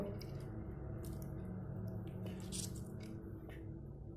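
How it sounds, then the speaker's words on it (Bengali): Raw chicken pieces squeezed by hand for a dhaba-style chili chicken, giving soft wet squishes and faint drips close up over a steady low background hum, with no talking. "আমি এবার চিকেনগুলো যতটা সম্ভব চেপে জলটা বার করে নেব"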